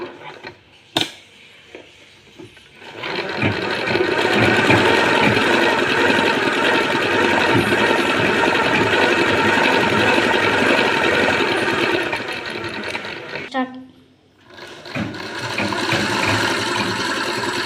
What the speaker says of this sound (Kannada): ನಾವು ನೋಡಿ ಕಂಪ್ಲೀಟಾಗಿ ಸ್ಟಿಚ್ ಹಾಕೊತೀನಿ ಇವಾಗ